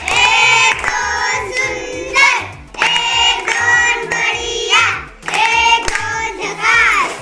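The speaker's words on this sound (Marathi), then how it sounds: "तिच्यासाठी जोरदार टाळ्या वाजवायच्यात" A group of children in a classroom claps loudly for a classmate, the claps mixed with energetic shouting and chanting voices in repeated loud bursts.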